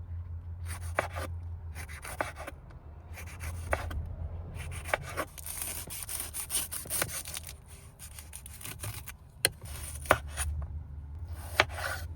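Shallots chopped with a knife on a board in a van kitchen make quick, rhythmic bursts of close, crisp taps separated by short pauses, over a faint low hum with no speech.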